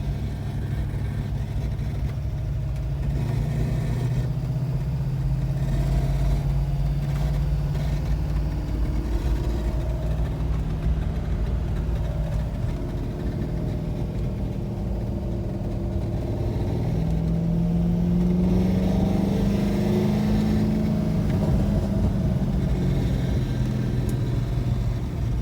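A C5 Corvette engine running with exhaust header noise from a dented header, a steady low rumbling drone with slight rises in revs, close and continuous with no talking.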